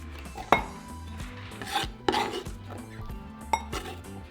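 Cubed cucumber is scraped and tipped into a bowl, giving soft rubbing and scraping with a few sharp knocks and clinks of utensil on bowl, close and quiet.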